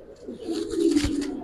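Giribaz and coloured pigeons coo close by in a low, soft burble that swells and holds, with a faint chirp above and no talk.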